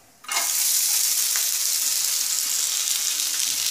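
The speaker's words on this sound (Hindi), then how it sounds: "घी घी गर्म हो चुका है तो साबूदाना को डालेंगे पानी छान करके।" Soaked, drained sabudana hits hot ghee with a sudden loud sizzle that erupts at once and holds as a steady, bright, close frying hiss for several seconds.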